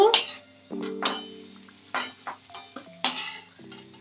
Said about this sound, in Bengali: এই যে খুন্তি দিচ্ছি দেখুন অনেকটা কেটে যাচ্ছে